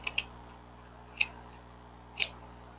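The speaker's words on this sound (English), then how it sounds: "And I could just cut this to look more like an ear shape" Scissors snip through plush fabric, shaping it into an ear: three short, crisp cuts spaced about a second apart, close and fairly quiet, with no talking.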